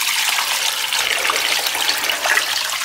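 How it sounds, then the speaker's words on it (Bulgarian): Water gushes steadily into a cooking pot lined with a towel and holding small jars of homemade lyutenitsa, a loud, close, continuous pour with no talking. "Заливаме вода."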